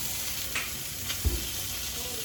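Salmon pan-searing in a hot pan, giving a steady, close, continuous sizzle with a few faint clinks of a utensil, alone without talk.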